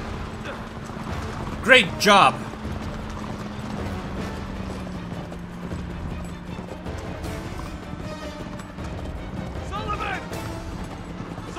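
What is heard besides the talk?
horse hooves clip-clopping in the Uncharted 3 video game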